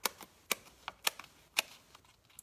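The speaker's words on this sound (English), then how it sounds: "I'm just going to cut some of my edging here" Scissors cutting strips of paper edging in a card-stamping craft session, a series of crisp, close snips repeating at a fairly steady pace, about five sharp cuts with softer paper rustles between, with no talking.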